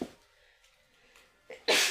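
A woman sneezes once, sharp and close, after a quiet in-breath, in an indoor room.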